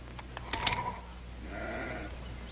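A sheep bleats on a western ranch, one wavering cry close by, followed by another drawn-out bleat, over a steady background hum.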